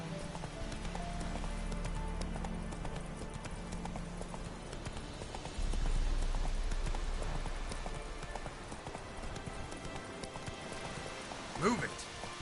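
Roach the horse gallops in The Witcher 3, hooves drumming in a steady, rapid clip-clop beat through the whole stretch, near and clear. A rider's voice calls out over it, and a brief whinny comes near the end.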